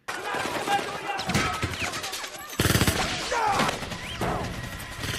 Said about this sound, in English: This man is shooting him with one arm